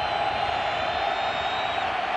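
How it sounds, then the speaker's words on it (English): Stadium crowd roaring and cheering at a 2018 college football game, Utah State at Boise State, a dense, steady wall of voices held at full volume for the whole stretch, with no single voice standing out. "Crowd on its feet once more."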